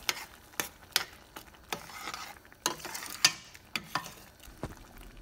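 A spoon stirs ridge gourd kootu mixed with ground coconut paste in a pan, giving a steady run of close scraping clinks and knocks over a faint simmer, with no one speaking.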